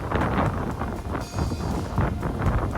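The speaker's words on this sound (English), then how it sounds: "It's very windy out here." Strong wind from Hurricane Helene in Georgia buffets the microphone in a steady, loud roar, with low rumbling gusts rising and falling throughout and no voices.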